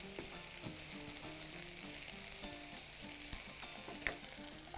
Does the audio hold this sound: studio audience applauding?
no